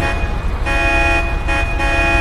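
Car horn honking steadily in a GTA video game street scene, a continuous loud toot with brief dips, sustained for a couple of seconds without speech.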